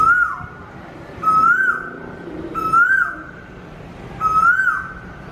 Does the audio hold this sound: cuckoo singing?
yes